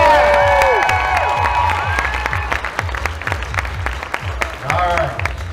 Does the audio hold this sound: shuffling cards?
no